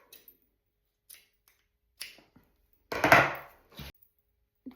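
Scissors cut a 5–8 mm elastic band to length for sewing a blouse-dress, with a few sharp, close snips spaced apart and one longer crunching cut in the middle.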